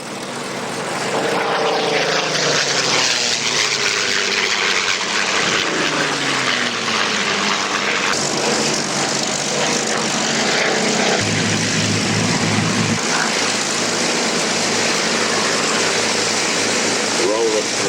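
A propeller plane, likely a vintage warbird at the Duxford air show, drones loudly overhead, its engine pitch sliding as it passes, with a steady roar filling the air throughout.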